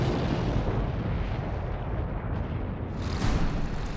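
Artillery barrage from a German attack in 1940 rumbles as dense, continuous booming blasts, loud and heavy with a broad low roar, swelling again near the end without any voices.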